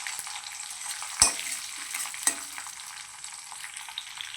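Dried red chillies and green chillies sautéing with dal in a pan for avarakkai rice, a steady close sizzle with two sharp stirring scrapes early on and a few faint clicks, no talking.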